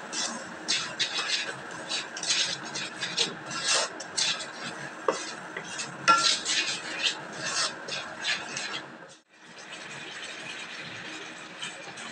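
Red capsicum halwa sweetened with sugar is stirred in a pan, making repeated close, rasping scrapes of a spoon against the pan in an uneven rhythm that then fades to a soft steady hiss.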